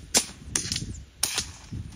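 Several sharp, snappy reports from a .22 air rifle aimed at iguanas in a coconut tree outdoors in Puerto Rico, loud and close, with short mechanical clicks between the shots.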